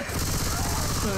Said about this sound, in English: As always, just shooting.